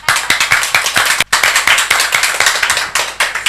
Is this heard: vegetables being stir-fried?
no